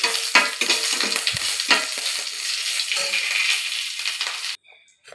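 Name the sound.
curry leaves sizzling in hot oil for okra curry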